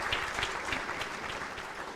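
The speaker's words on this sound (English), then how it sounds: "I think it won't hurt to give Mr. Rwabwogo another round of applause" Another round of applause for a guest at a joint Rotary fellowship gathering, a dense, even wash of many hands clapping together that holds steady for its full length, with no speech.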